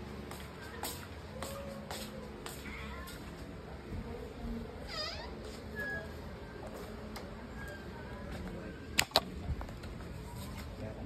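Hungry cats meowing at feeding time, scattered faint meows over low room noise with rustling movement and a couple of sharp clatters near the end, no clear talking.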